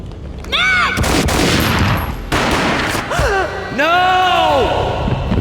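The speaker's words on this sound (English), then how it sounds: "A gunshot boomed and she fell down in slow motion." Gunfire bursts out loudly in the Max Payne video game, a dense, sustained crackle of shots with harsh booms, mixed with drawn-out, pitch-bending voices and cries.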